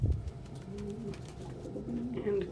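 A pet dove or pigeon coos softly near its nest where it keeps its eggs, giving a few low, rolling calls close by under a faint background hum.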